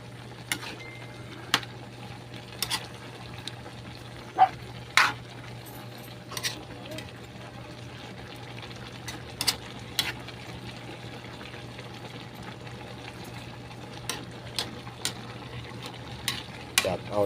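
Jackfruit simmers in coconut milk with dried anchovies as a utensil stirs the pot, producing intermittent scraping clinks against the pan over a low steady hum.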